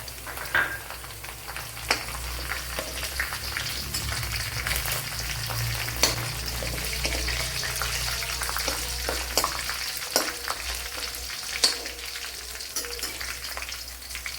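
Garlic and dried red chillies fry in a pan of oil for Kerala-style mango perattu. A steady, close sizzle hisses throughout with occasional light clicks of a spatula, no talking.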